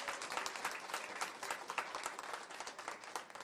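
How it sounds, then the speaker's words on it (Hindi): A crowd at a product launch event applauds to welcome a Bollywood actor, dense continuous clapping held at an even, fairly distant level throughout. "जोरदार तालियों से उनका स्वागत किया जाए।"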